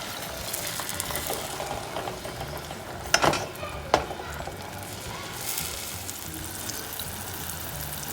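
Jaggery melting with a spoonful of water into syrup in a pan, a soft bubbling simmer with scraping stirs and two sharper clinks of a spoon against the pan.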